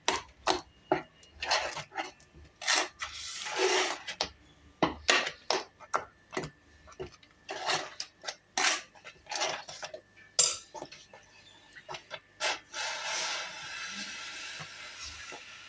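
Urad dal kali is stirred in a pan, with repeated clinking and scraping strokes of a utensil against the metal coming in irregular bursts, close and clear, without voices.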